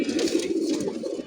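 Caged pigeons coo in a steady, low, rolling murmur, close and moderately loud, with a soft airy background.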